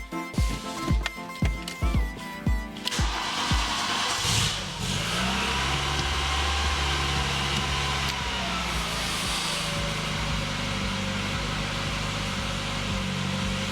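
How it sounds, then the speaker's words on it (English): A VW Golf Mk2 is cranked in snowy winter conditions: a loud run of rhythmic starter turns, then the engine catches with a rising rev and settles into a steady, close idle, with no voices. "thing now is to see if the car starts"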